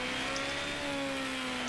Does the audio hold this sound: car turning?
yes